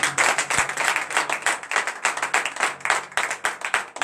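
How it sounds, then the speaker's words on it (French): A church congregation at a morning prayer service claps loudly and steadily, dense overlapping hand claps continuing throughout with a rhythmic pulse and no speech. "je vous demande à nouveau d'applaudir très fort"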